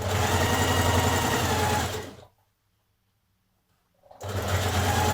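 A sewing machine stitches around fabric dress pocket pieces for a smock dress, a steady close whirring run that stops for about two seconds of near silence and then starts again.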